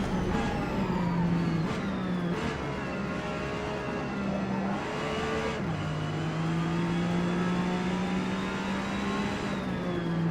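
In a Forza Motorsport race, a 1974 Porsche 911 RSR engine howls close and loud, climbing in pitch and dropping through several quick gear changes along a straight.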